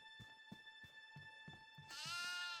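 Goat bleating in the horror video game Devour, a wavering, harmonic bleat rising over a steady game ambience with a soft repeated low thumping pattern underneath.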